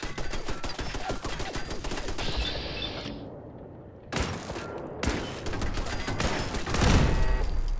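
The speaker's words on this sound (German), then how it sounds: "Kampfgewehr." Combat rifle gunfire in Fallout 4, rapid bursts of loud close shots that stop briefly before resuming in dense volleys, with game effects mixed in.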